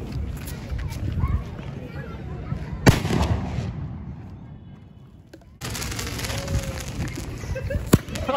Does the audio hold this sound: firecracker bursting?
yes